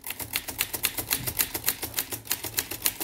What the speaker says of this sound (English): So for example, if I continue typing,